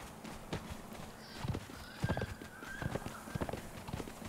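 Horse hooves clip-clop in a steady, irregular trot in the game Conan Exiles, with a high whinny rising midway, fairly faint and close over a soft ambient game backdrop.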